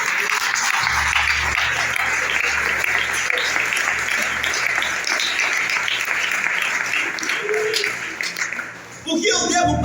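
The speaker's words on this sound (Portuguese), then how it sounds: "Você pode aplaudir ao Senhor." During a church communion service, the congregation applauds strongly and evenly for about nine seconds over a low sustained keyboard tone, then the clapping drops away abruptly.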